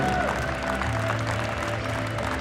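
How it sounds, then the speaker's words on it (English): Applause rises from the crowd at a world bench press championship for the lifters on the platform, steady and mid-level over a low hall hum, with a faint voice underneath. "a round of applause for all lifters on platform"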